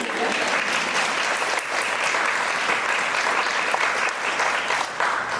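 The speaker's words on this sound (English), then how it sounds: "So I think we should give one more round of applause." A crowd applauds steadily, dense clapping from many hands sustained throughout at an even, fairly loud level.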